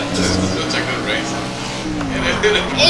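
Race car engines roar and whine continuously in the Project CARS video game, a steady loud drone with shifting pitch, while people talk over it throughout.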